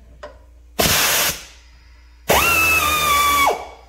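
Snap-on 3/8-inch impact wrench tightening a bolt to 55 foot-pounds: two loud, close bursts of rapid hammering, the first short and the second longer with a rising whine, separated by a quiet pause.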